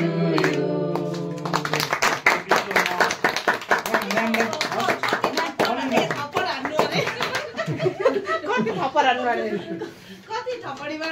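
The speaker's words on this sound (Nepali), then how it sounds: "कति थपडी मार्नु भनेको" A group claps right after a birthday song, sharp hand claps bunched densely near the start and then thinning out, with people chuckling and talking over and after the applause.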